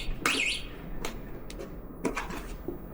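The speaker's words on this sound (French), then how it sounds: "C'est quoi, t'as une alarme dessus?" An alarm on an electric scooter being wheeled indoors sounds in short electronic chirps and beeps, a couple of quick bursts followed by clicks and knocks, fairly close in a quiet room.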